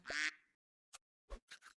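A video game duck gives a single nasal quack, then after a pause three or four short clipped quacks in quick succession, close and clean against silence.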